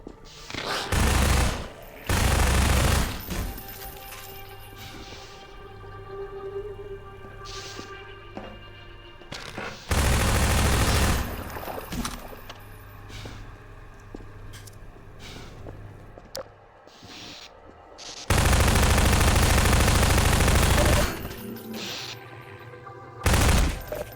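Turret gunfire in Half-Life 2, loud sustained automatic bursts of several seconds each separated by quieter stretches of game sound, with a final short burst at the end.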